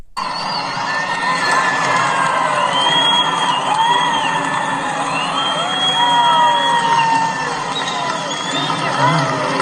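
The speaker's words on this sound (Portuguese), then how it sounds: "E aí o povo gritando mito" A large crowd at a gathering with Bolsonaro cheers and shouts loudly and continuously, with whoops and many overlapping voices.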